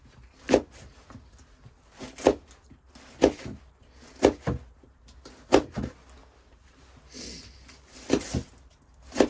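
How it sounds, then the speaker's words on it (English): A knife chops an onion on a board inside a tiny cabin while winter camping, giving sharp, well-spaced single cuts, some in quick pairs, about a dozen over several seconds, close and fairly quiet against a hushed background. "We got the onion cut"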